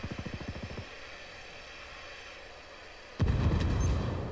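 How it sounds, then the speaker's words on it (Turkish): In Ghost Recon Wildlands, a quick run of rhythmic thumps gives way to a low lull before bombs dropped from a drone explode in a sudden loud, booming blast that rumbles on to the end. "Evet, şuraya bomba yağdırıyoruz şimdi. Bam bam bam diye bombalar düşecek."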